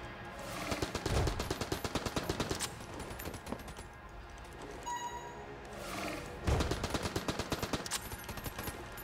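Rapid gunfire from enemies shooting bullets in the twin-stick game Enter the Gungeon, dense rattling bursts that come in loud waves with a brief lull between them, alongside game music.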